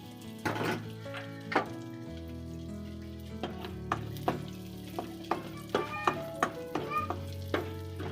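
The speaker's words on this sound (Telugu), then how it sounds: "గీ హీట్ అయిన తర్వాత జీడిపప్పు కిస్మిస్ వేసుకోవాలి" Cashews and raisins fry in hot ghee in a pan, a soft continuous sizzle broken by repeated sharp clinks and scrapes of a spoon stirring against the metal.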